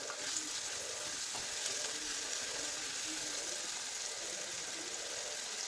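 Onion and green chilies sautéing in oil for a spicy crab curry, a continuous hissing sizzle that stays fairly quiet and even throughout, with no voices over it.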